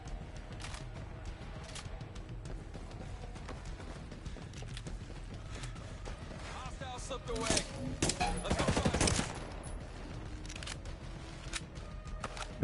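Gunfire in the tactical shooter Ghost Recon: a steady patter of shots under a busy in-game soundscape, building to a denser, louder burst of firing near the end.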